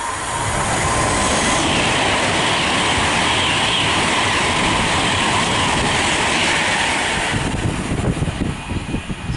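A fast train from London Euston passes through Nuneaton on the West Coast Main Line, a loud, close, sustained rushing roar with rhythmic wheel clatter that changes character near the end as the carriages sweep by.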